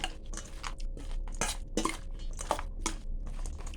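Thai spicy salad of fried Chinese pork sausage, boiled pork sausage and fried meatballs being stirred and tossed by hand, giving close, intermittent wet clinks and soft squishing knocks against a bowl, with no talking.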